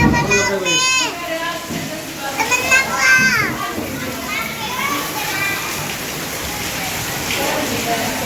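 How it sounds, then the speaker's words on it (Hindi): Heavy rain pours steadily outside a house during a downpour, a constant hiss running beneath children's chatter and playful voices in the foreground. "बहुत ही तेज बारिश आ रही है, बहुत ज़्यादा तेज।"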